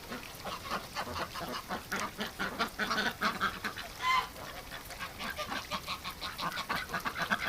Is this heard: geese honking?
yes